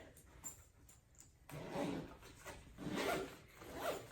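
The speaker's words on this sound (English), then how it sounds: "Then I'm going to zip the top zipper." A packing cube zipper is pulled in several rasping strokes, close up, with a quieter stretch first and then louder, longer zips.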